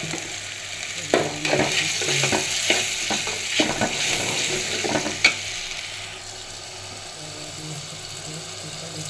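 Food is stir-fried in a pan with a continuous sizzle, broken by a run of clattering spatula scrapes and knocks in the first half before settling into a steadier, quieter fry.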